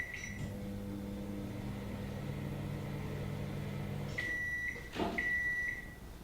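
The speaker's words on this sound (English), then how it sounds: "I made myself a raspberry milkshake and heated it up in the microwave." A microwave oven heating a raspberry milkshake as a stage sound effect: a steady low hum runs for about four seconds, then a high beep tone sounds twice near the end.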